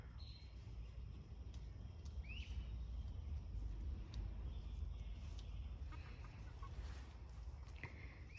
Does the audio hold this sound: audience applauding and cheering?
no